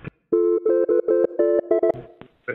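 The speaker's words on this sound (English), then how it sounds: "That's not me, that's the phone." A telephone rings in a steady pattern of short, evenly spaced electronic tone bursts, loud and close, before the ringing breaks off.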